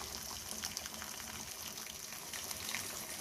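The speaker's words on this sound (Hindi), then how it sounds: "साथ में मैंने पानी गर्म करके रखा हुआ था, ये मैंने डाल दिया।" Hot water pours from a jug into a cooking pot of vegetables and chicken, a steady close gushing splash running unbroken for a few seconds with no voices.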